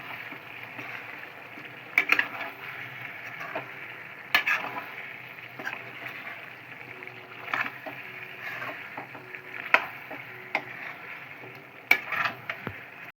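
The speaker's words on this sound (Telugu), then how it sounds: "కలుపుకోవాలి." Curry being stirred and mixed in a pot, a continuous soft sizzle with repeated scraping and clinking strokes of a spoon against the metal, close by.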